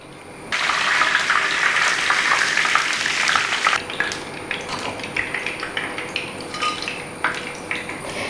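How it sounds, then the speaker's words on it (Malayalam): Pakkavada snack sizzling in hot oil, a loud, steady crackling hiss that starts abruptly and continues throughout, with a few light utensil clinks on top. "നമുക്ക് കുറച്ചും കൂടെ ഒന്ന് വറുത്തെടുക്കാം"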